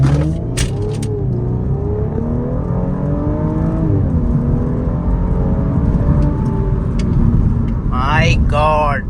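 Audi S5 Sportback launching hard from a stop, its engine droning loud and steady with rising harmonics throughout, a sharper whine near the end.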